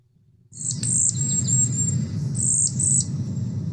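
High, thin bird calls repeat in a few drawn-out whistles over a low background hum, close and fairly loud.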